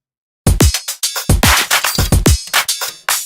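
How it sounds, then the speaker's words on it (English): A busy electronic drum pattern plays alone, punchy kicks and sharp claps with quick ghost hits and crisp high percussion in a tight, driving rhythm. "The drums sound like this on their own."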